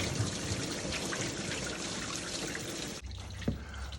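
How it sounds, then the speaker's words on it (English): Coolant pours and splashes out of a 2021 Ford Mustang Mach 1 engine, a steady liquid gush that stops abruptly near the end, followed by a short dribble and a single bump. "so you can see the goosh of coolant go everywhere"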